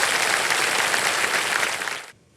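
A studio audience on a televised quiz show claps in a loud, dense burst that cuts off abruptly after about two seconds.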